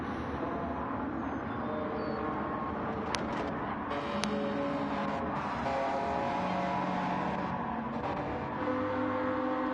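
Race cars in Gran Turismo 7 at Daytona, including a Subaru BRZ with a naturally aspirated 2-liter engine, keep up a continuous loud engine drone with shifting revs and passing cars.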